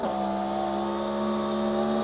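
A Nissan GT-R R35 engine in the street racing game CarX Street holds a steady, even drone with strong tonal hum, loud and unbroken throughout.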